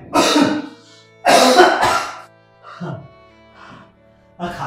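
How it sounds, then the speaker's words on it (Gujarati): A weak, ill person coughs harshly in a Gujarati family drama scene. Two loud, rough bursts come close together, then a few quieter, throaty coughs follow with short pauses between them. "આ ખાંસી તો લાગે છે કે જીવ લઈ લેશે."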